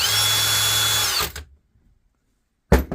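A Milwaukee Gen 4 hammer drill runs loud with a high-pitched whine for about a second, stops into silence, then briefly starts up again.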